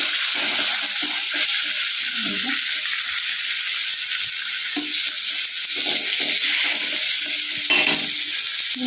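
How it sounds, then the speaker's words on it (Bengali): Pumpkin pieces frying in a kadai crackle and sizzle loudly and continuously, a dense, close spitting of oil with small scraping stirs and no talk over it. "কুমড়োটা ভাজছি।"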